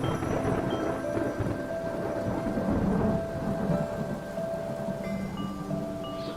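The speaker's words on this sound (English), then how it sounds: "However, a storm came. Heavy rain poured and did not stop the whole day and night." Heavy rain pours steadily while low thunder rumbles through it, a loud, dense storm wash with no voices.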